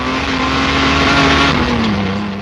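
A Jaguar D-Type race car engine drops from fourth to third gear on the approach to a circuit corner, a loud close steady roar whose pitch slides gradually lower as the revs fall.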